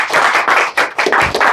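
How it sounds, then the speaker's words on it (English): A few people clap close by for a guest speaker at a real estate financing talk, about five quick bursts of sharp, loud handclaps in a short, uneven rhythm. "Give Scott a round of applause"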